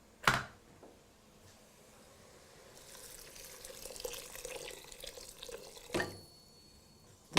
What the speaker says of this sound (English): Now, I'm going to add a little bit of water.